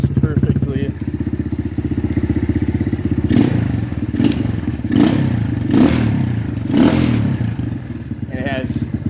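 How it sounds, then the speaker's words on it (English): Pit bike engine fired with a single kick, then idling with a rapid, steady close-up putter and a few heavier thumps and clatters, while someone talks over it. "So I won't even hit the gas, one kick. Fires right up. Idles perfectly."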